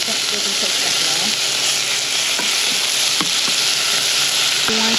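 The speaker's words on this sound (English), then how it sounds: "You're going to saute the rest of the egg roll filling" Egg roll filling sautéing in a pan: a loud, dense, continuous sizzle fills the whole stretch, with a few faint utensil taps and scrapes underneath.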